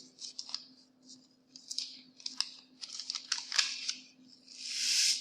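A paper packet of pulses is torn and opened, with crisp, close rustling and crinkling bursts repeating over a few seconds, ending in a louder tearing swish.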